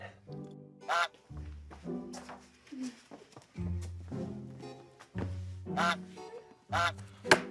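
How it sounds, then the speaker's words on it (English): Goose honking heard as repeated nasal honks in irregular bursts, fairly close and moderately loud, with short quiet gaps between calls and no talking. "that honking is going to drive me crazy."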